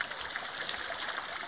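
Cold mountain spring water at Rejan Chashma Khall, Bara Banda, flowing steadily in a continuous close rush and trickle, with no voices.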